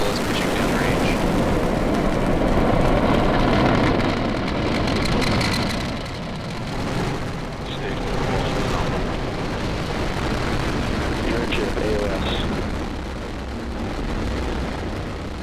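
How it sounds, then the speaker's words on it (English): A SpaceX Falcon rocket launching with a Dragon capsule on a cargo resupply mission, a loud continuous broadband roar and rumble that holds steady throughout, with a voice faintly audible beneath. "Ignition, liftoff. And Dragon go Falcon. Vehicle is pushing downrange."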